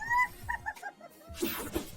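A dog in distress, found in an abandoned house, gives a series of thin, high whimpers that fall into soft whines, followed by a rougher burst of noise.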